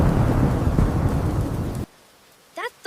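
Loud rumbling thunder with heavy rain fills the first two seconds, then cuts off abruptly to near silence before a short burst of voice.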